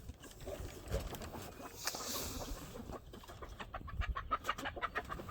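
Hundreds of chickens cluck and murmur together at bedtime in a busy, continuous flock chatter, with occasional louder bursts and rustling, heard at a moderate distance.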